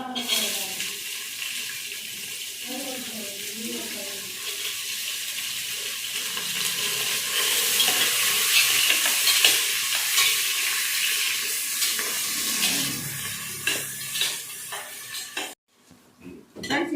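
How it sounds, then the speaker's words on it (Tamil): Onions fry in a pan for chicken biryani, a loud, sustained sizzle with stirring clatter that swells through the middle and then breaks off into brief quiet near the end, with no talk over it. "அடுத்தது வெங்காயம் போட்டுடலாம் இப்போ"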